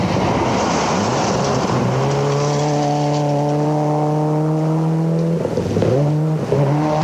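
Rally car with a newly repaired exhaust, competing in a New Zealand rally at Hawke's Bay in 2004, drones loudly and close. Its engine note holds steady, dips briefly near the end, then picks up again.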